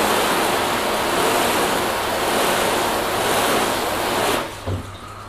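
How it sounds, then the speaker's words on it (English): A garden hose rinses a car section by section: a steady, loud hiss of water spray running continuously, then cutting off abruptly near the end. "Let's just rinse each section and just see how they look."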